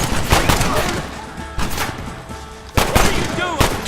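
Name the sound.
gunfire in the video game Red Dead Redemption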